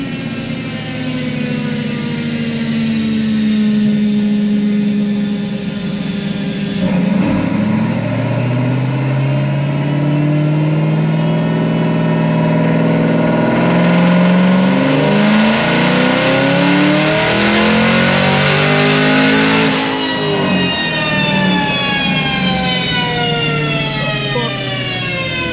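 A supercharged LT4 engine screams through a 6th-gear dyno pull, loud and close, climbing steadily in pitch in long sweeps with brief shift-like breaks around seven and twenty seconds.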